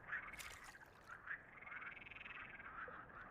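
Frogs croak in a forest scene in the video game The Cursed Forest, giving repeated bright, rattling calls that overlap in quick, pulsing bursts. The chorus is soft but clear and heard alone, without talking.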